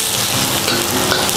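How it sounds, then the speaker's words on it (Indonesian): Shallots stir-fry in a pan of leftover oil from frying anchovies, giving a steady, loud, dense sizzle with faint stirring scrapes, alone and close. "Dan ini aku menumis menggunakan minyak bekas goreng ikan teri"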